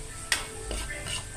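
Chicken sautéing in a pan for Filipino chicken pastil, a short close sizzle with a sharp utensil scrape and stirring clatter, no talking.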